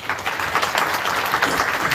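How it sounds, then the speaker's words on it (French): Brief burst of audience applause for the laureates at a democracy and peace prize ceremony, dense steady clapping throughout with no voices. "je vous demande de les applaudir encore une fois"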